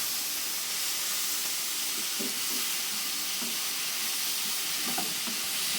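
Ginger garlic paste frying in a pan of hot oil for paneer butter masala, a constant close sizzle and hiss with faint soft stirring scrapes underneath.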